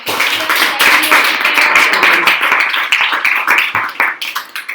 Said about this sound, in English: let's give applause for our